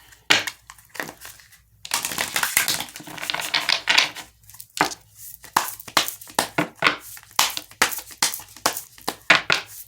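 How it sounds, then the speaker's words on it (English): Rapid crisp riffling and snapping of cards being shuffled, repeated in quick bursts with short pauses, close and fairly loud. "I'm going to shuffle them out."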